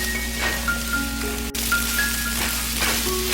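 Onions stir-frying in scallion oil in a pan, a steady soft crackling sizzle with light pops throughout.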